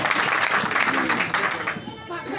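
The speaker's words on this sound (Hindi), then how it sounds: "जोरदार तालियों से उनका इस्तकबाल करें।" Applause fills the hall at the inauguration of a Peace Party office in Mau, a dense wash of clapping that runs throughout, with voices talking over it.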